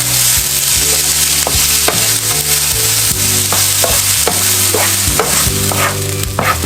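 Cabbage stir-frying with carrot and garlic, a loud close sizzle with rhythmic scraping strokes of a utensil against the pan, and no voices.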